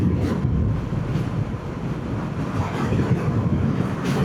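Choppy sea off the Isle of Wight, a continuous wash of waves and surf heavily buffeted by wind noise on the microphone, loud and steady with no voices.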